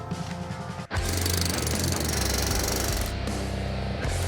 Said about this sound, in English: He's using the hydraulic hammer.